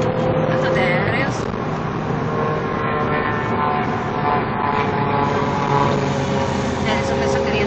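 An airplane flies overhead, its engine a loud, steady drone that fills the whole stretch while people talk nearby.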